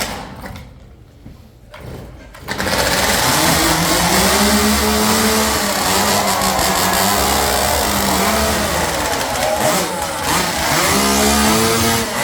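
A powered saw roars at a lumberjack show in Alaska, loud and close, revving and bogging in a sustained engine drone after a short quieter lead-in.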